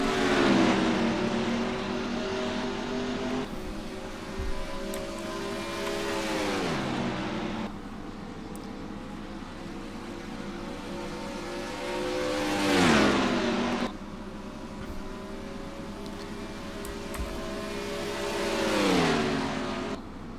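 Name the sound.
race cars accelerating at the start, from a racing video game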